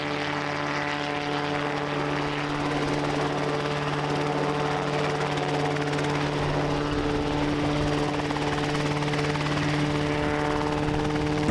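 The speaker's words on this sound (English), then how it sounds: "you just kind of do some hover taxiing all day" A Rotorway kit helicopter hovers close by, its engine and rotor making a steady loud droning hum with strong tonal whine and constant beating, unbroken throughout.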